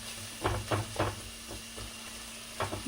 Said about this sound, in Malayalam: ഉള്ളിയിട്ട് ഉള്ളി നന്നായിട്ട് വരട്ടാം.